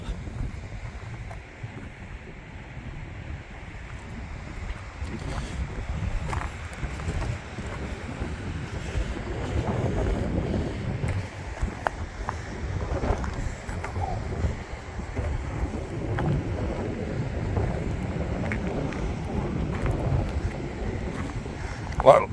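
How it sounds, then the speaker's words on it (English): Strong coastal wind roars across the microphone, with a rushing low rumble that swells and gusts throughout. "It's quite windy here, so I hope my voice is being picked up."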